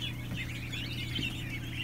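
A pet gosling makes soft, continuous peeping calls close by, a wavering high chatter over a low steady hum.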